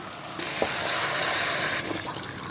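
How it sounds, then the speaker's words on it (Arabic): Boiling water is poured into a pot of turmeric-seasoned kabsa ingredients, making a steady, close rushing splash that lasts about a second and a half before cutting off. "هنزل عليها بمية مغلية"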